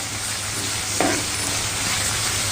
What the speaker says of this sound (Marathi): कांदा तेलामध्ये छानपैकी परतून घेते.